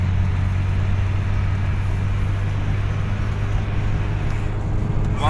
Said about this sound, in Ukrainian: Показую як вона їде. Зараз розганяюся.